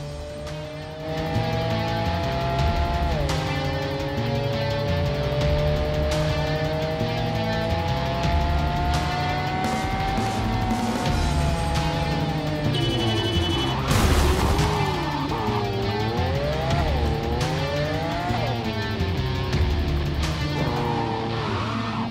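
A car in Cyberpunk 2077 slides across a wet road, its engine droning steadily with pitch that rises and falls as it revs, and a brief harsh burst partway through, with no talking over it.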